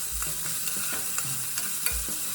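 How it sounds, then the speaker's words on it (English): Vegetables are stirred in sizzling sesame oil for a Korean dish, with a steady close frying hiss broken by irregular scraping strokes of a utensil, and no voices. "we are sauteing everything in the sesame oil"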